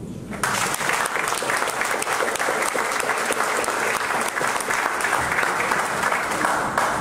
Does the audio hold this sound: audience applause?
yes